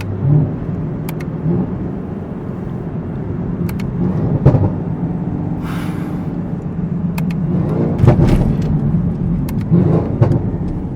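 Tuned Chevrolet Camaro ZL1 heard from inside with a window rolled down, a low steady engine drone with a few sharp clicks and brief swells of revving, no talking.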